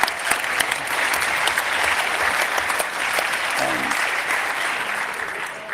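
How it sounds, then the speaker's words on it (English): Sustained round of applause from a large audience at a hacker congress, steady dense clapping filling the hall throughout with no break. "please give Jens a gigantic, gigantic, heartfelt round of applause"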